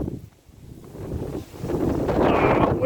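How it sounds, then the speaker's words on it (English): Wind blowing outdoors on a nature walk, gusting and buffeting the microphone in rough bursts that build louder toward the end, with no talk. "Oh, windy."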